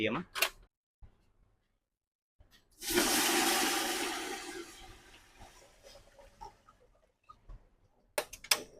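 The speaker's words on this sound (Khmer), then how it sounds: "យើងធ្វើការចាក់ទឹកចូលភ្លាម" After a quiet moment, a sudden loud hissing rush bursts out and fades over a couple of seconds, followed by light clicks and taps.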